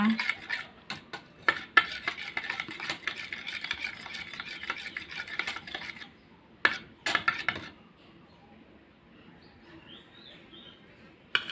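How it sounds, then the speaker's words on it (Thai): A spoon stirs jaew dipping sauce with toasted rice powder and ground chili in a bowl. Quiet, rhythmic scraping and clinking goes on for several seconds, then a few more scrapes, before it settles into near silence with faint birdsong. "ตามด้วยพริกป่นนะคะ คนให้เข้ากันเลยค่ะ"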